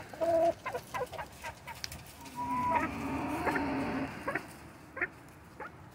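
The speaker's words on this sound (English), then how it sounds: "Chickens are their own background noise." Several chickens cluck and cackle nearby in irregular bursts, one drawn-out call rising above the others.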